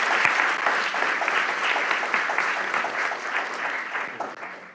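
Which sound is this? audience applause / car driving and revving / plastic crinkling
audience applause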